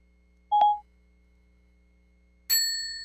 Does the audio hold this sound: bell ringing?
yes